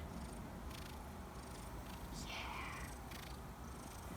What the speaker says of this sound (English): Are those purrs that I can hear?